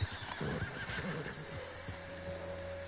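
A horse whinnies in Red Dead Redemption 2, a loud neigh near the start followed by softer snorts and possible hoof clops, with a steady in-game ambience underneath.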